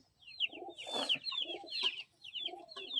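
A pigeon lets out repeated throaty coos in short rhythmic bursts, close and fairly quiet, with brief gaps between phrases.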